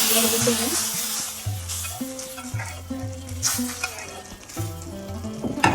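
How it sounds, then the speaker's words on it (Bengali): Onion and garlic fried in oil are tipped into lentil dal with raw mango for the tempering, and a loud, close sizzle and hiss follows while stirring clatters against the pot. Music plays underneath. "পেঁয়াজ রসুন আমি ভালো করে ভেজে নিয়েছি এখন দিয়ে দেবো"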